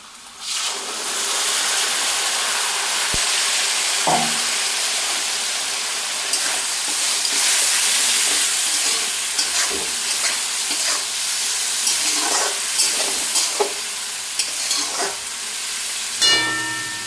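Cumin, green chilli, onion and spice paste fry in a pan for a rohu fish and taro curry, with a loud continuous sizzle and hiss and occasional scraping knocks from stirring.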